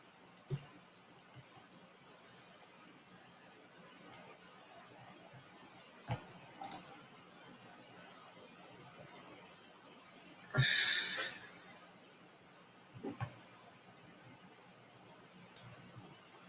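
Sparse computer mouse clicks, a handful of faint, sharp single clicks spread over a quiet room tone, with a short louder rustle in the middle.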